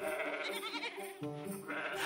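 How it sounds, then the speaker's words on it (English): A sheep bleats twice in wavering, nasal cries, close and moderately loud, the second call lower and longer, with no other voices. "A sheep"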